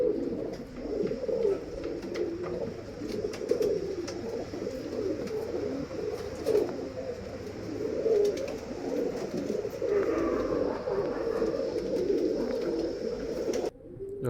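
Girebaaz pigeons coo steadily in soft, overlapping murmurs for the whole stretch, fairly close and continuous, with no talking over them.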